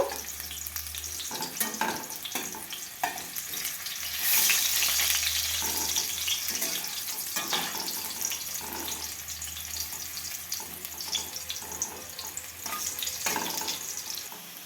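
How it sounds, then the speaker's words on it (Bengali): Potatoes fry until reddish-brown in oil with a continuous close sizzle, punctuated by light crackles and occasional stirring scrapes, no talking. "আলুগুলো আমার ভাজা হয়ে গেছে লাল লাল করে।"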